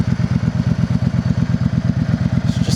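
A Yamaha V Star 650 Classic cruiser engine runs smoothly at idle, with a steady, even low pulsing thump that stays close and constant and has no voices over it.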